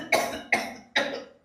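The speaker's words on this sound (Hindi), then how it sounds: "तेरे इस बुढ़ा को है ना खांसा चल रहा है" An old man coughs three times in quick succession, each cough sharp and fairly close, with no talk.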